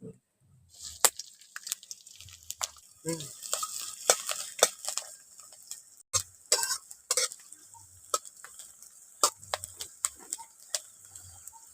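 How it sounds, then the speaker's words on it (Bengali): Chopped onions fry in white oil in a wok over a stove, a faint continuous sizzle broken by frequent sharp clicks and scrapes of stirring, no talking. "আমি একটু অল্প করে পেঁয়াজটাকে ভেজে নিয়েছি"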